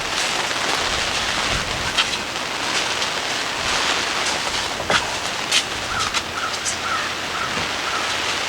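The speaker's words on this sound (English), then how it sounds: "Yep, the rain has started." Steady rain falls on a cattle panel greenhouse, a dense, even hiss of drops on the covering with a few louder taps, close by and continuous, with no talking.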